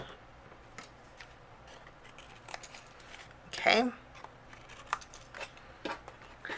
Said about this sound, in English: anything overhanging, I'm going to trim off with my scissors